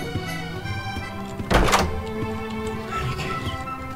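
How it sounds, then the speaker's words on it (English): A single heavy thud of banging on a wall in the Roblox horror game Doors stands out sharply against a low droning game soundscape. "Stop banging on the wall."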